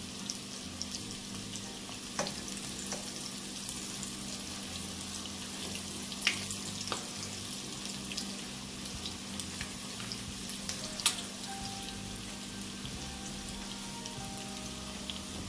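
Canned-salmon cakes fry in a pan with a steady, quiet sizzle, and a few soft scrapes and taps come through as the cakes are turned over with a spatula.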